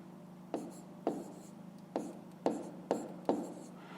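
Pen strokes on paper as a math solution is written out by hand, faint scratchy taps and short scribbles repeating roughly every half second in a quiet room, with no talking.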